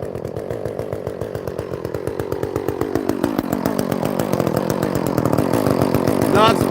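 An Echo chainsaw cuts tree branches with a loud, close, steadily revving engine roar and rapid chain rattle, the pitch rising and shifting as it bites into the wood.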